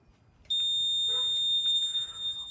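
A smoke detector alarm sounding on a fire alarm panel system after its detector head is pulled, a loud steady high-pitched electronic tone that starts abruptly, with faint clicks and brief handling noise close by.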